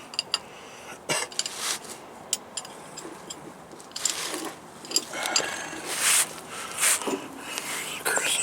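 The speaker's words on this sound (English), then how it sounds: "Let me double wrench it." A ratchet wrench working a stubborn bolt on a car transmission, with scattered bursts of clicking and metallic scraping at close range, separated by pauses and soft breathy voice sounds.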